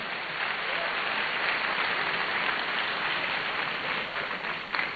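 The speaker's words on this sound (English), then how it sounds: "I think we can give him another round of applause" An audience in a university auditorium keeps up a continuous round of applause at a youth forum, with a dense, even clatter of many hands lasting five seconds and faint voices mixed in.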